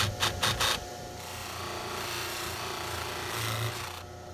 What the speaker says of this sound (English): I'm gonna go ahead and use the polishing wheel